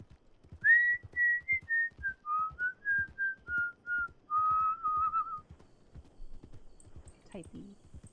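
A melodic whistled tune of about a dozen sustained notes rises and falls for roughly five seconds, loud and close over a voice-chat microphone with noise suppression, with soft tapping underneath and a brief clatter near the end.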